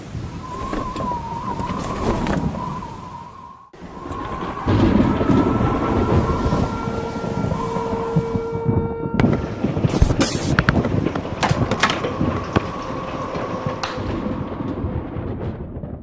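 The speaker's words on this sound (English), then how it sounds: "Pretty good hail. Wow, there's a lot." Heavy hail falls during a thunderstorm, a loud, dense, continuous clatter and roar with gusts of wind buffeting the microphone and rumbling storm noise throughout.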